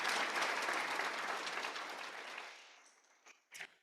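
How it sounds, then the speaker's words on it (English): An audience at a library foundation author event claps together in a full burst of applause that gradually thins and dies away, leaving a few last scattered claps. "let's give a round of applause"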